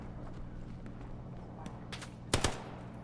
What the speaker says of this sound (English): I'm shooting above you.